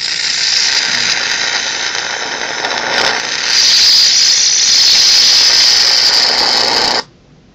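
High-voltage arcing from a flyback transformer driver at about 100 kilovolts. It is a harsh, loud, continuous buzzing squeal that swells partway through and then cuts off abruptly.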